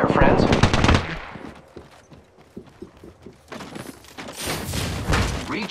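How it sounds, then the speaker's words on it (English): Rapid gunfire in the battle royale game Apex Legends, with dense bursts at the start and end and a run of sharper single shots in the middle, loud and close. "The enemies are shooting at me."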